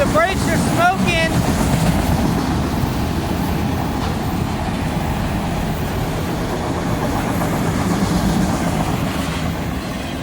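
Two CSX locomotives haul a train past on the track, a loud steady rumble with rolling wheel noise and brief high squeals near the start, running continuously under faint voice.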